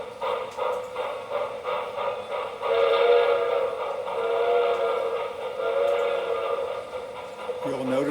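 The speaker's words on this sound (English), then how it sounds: "the recording of the actual steam engine taking off" A recorded steam locomotive whistle sounds as the engine pulls away, a sustained, loud chord-like blast that swells and holds over steady rail rumble before dropping in pitch near the end.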